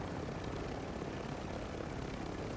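Helicopter rotor and engine noise from the video game Warzone 2, a dense steady roar that fills the whole clip with no pauses and no talk.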